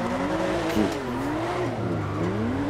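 A car drifting in the GTA video game, with a loud wavering tire squeal riding over the engine drone as it slides sideways, continuous and close with no talking.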